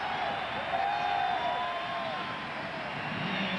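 Stadium crowd at a 1994 Auburn at Florida college football game, a steady broad roar of cheering that holds evenly throughout, with a faint whistle-like tone drifting through the middle.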